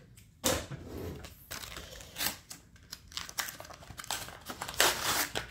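Scissors cutting open plastic packaging from a shopping haul, a close run of crinkling, snipping and tearing bursts in irregular bursts with brief pauses between.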